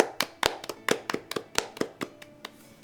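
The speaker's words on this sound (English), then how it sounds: "We're just always clapping. Just always giving you a clap." Streamers clap their hands in a quick, fairly close burst of about a dozen sharp claps that gradually slow and soften toward the end.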